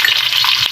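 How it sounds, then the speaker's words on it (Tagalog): Garlic frying in hot oil gives a steady, bright sizzle up close, a continuous hiss with faint popping throughout. "maglagay na tayo ng bawang sa ating oil"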